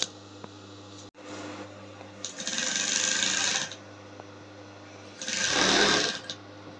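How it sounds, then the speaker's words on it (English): A sewing machine stitches a crinoline peplum hem in two loud, steady runs of rapid mechanical whirring and ticking, separated by a quieter pause with faint background hum and no talk. "I'll sew it to the end right now, then I'll show you how to top stitch."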